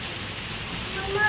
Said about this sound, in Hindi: देख ले क्या आ रहा है, बूंद आ रही है, बारिश बारिश